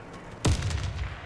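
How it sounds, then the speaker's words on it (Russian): A grenade blast in a video game strikes suddenly after a brief quiet moment, a loud broadband boom with a low rumbling tail that fades slowly. "Граната!"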